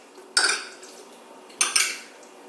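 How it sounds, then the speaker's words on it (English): Two sharp clattering thuds of a potato masher pressing persimmons in a container, close and distinct, separated by a short quiet gap. "potato masher fits in there"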